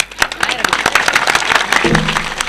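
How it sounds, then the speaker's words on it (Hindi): Audience at a Bengali street magic show clapping, quick uneven bursts of hand claps close by, mixed with voices talking over them. "ताली ताली।"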